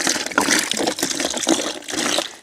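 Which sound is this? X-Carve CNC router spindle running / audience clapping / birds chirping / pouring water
pouring water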